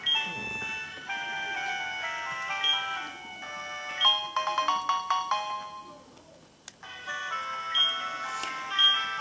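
The Poke Gear phone in Pokemon Soul Silver rings with a bright, repeating electronic melody of beeping tones that plays on steadily, clear and close, with no talking over it.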